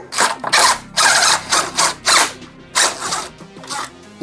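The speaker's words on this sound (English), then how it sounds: "taking these bolts out, but it's gotta get done." Bolts being loosened on a J5 with a hand ratchet: about eight bursts of rapid clicking in quick succession, close and fairly loud, with short pauses between strokes and no talking.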